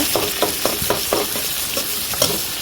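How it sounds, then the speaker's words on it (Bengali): Sliced onions dropped into hot oil and frying for a spiced tilapia curry with flat beans, giving a steady close sizzle broken by several regular scraping stirs, with no talking. "তেল গরম হয়ে গেছে পেঁয়াজগুলো আস্তে আস্তে দিয়ে দেবো"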